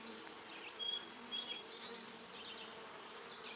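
Honey bees around a backyard beehive buzz faintly and steadily, several insects droning close by in a quiet setting with no talk.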